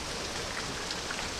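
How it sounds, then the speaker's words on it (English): Heavy rain pours down in Pittsburgh, a steady dense hiss of water falling and splattering on surfaces, even and unbroken for the whole short stretch with no talking. "it's really raining today here in Pittsburgh"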